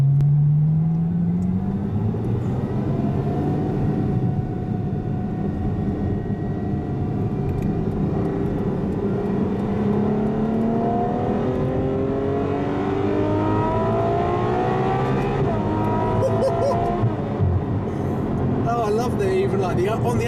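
A 730 bhp Ferrari F12 Berlinetta with a double-clutch gearbox heard from inside while driving, its engine and exhaust droning loudly and rising in pitch through the gears, with upshifts and steady acceleration over twenty seconds.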